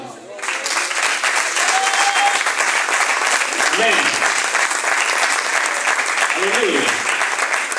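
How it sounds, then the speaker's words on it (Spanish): A church congregation at a revival service applauds loudly and continuously, a dense sustained wash of clapping with voices calling out over it. "Aplaudan."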